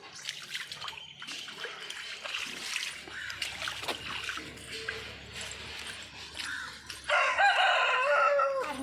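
A rooster crows amid a busy outdoor mix of birdsong and trickling water, with a louder burst near the end.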